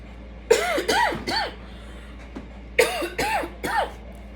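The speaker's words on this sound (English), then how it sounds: "I don't even know why I'm starting to cough." Two bursts of harsh coughing, three coughs each, close by, separated by a short pause with no talking.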